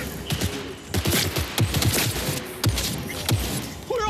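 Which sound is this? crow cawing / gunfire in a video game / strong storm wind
gunfire in a video game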